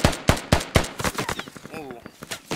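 Gunfire from the military shooter game Squad cracks out in a fast series of sharp, evenly spaced shots, close and loud, while a voice speaks briefly over the later shots.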